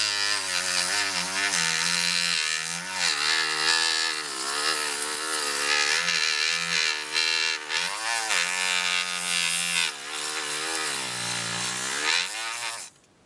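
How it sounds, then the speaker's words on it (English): Black sandpaper rubs over model putty on a 1/100 scale kit part in rapid back-and-forth strokes, a close, continuous scratchy rasp with a wavering rhythm, ending abruptly, with no talking. "Let's try some of this black sandpaper and see if this works."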